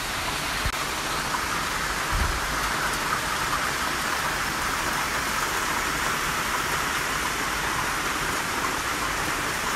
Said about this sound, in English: It's a deluge.